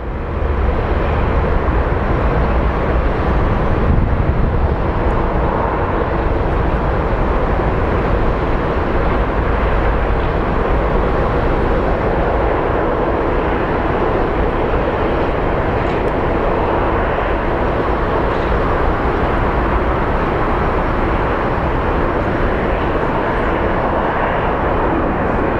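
Boeing 767 airliner taking off from Phoenix Sky Harbor International Airport, its jet engines producing a loud, steady, broadband roar that holds for the whole stretch with no talk.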